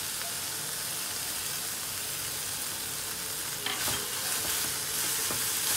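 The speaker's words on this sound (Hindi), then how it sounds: "इसे अच्छे से मिला लेंगे।" Coconut laddu mixture with cardamom powder being stirred in a pan, a steady dry sizzle and scraping that continues throughout, with a few louder spoon knocks near the end.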